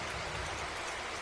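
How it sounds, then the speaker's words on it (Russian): A handmade rainstick gives a soft, even rush of trickling rattle, like steady rainfall. The sound is continuous and fairly quiet, with no breaks or talk. "Используют эту дождевую палку и для медитации."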